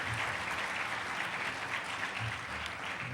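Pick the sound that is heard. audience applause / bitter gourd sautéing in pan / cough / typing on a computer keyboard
audience applause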